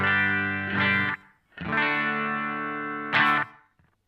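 An electric guitar runs through a Boss DM-2W delay pedal, playing sustained distorted notes with a chorus-like shimmer. Two long phrases are separated by a brief gap, and an echoing tail follows at the end.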